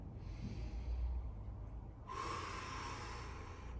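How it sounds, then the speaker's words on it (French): A slow, deep breath is drawn in softly and close during a relaxation session. It is faint and there is no talking. "profonde respiration. Une deuxième, une troisième."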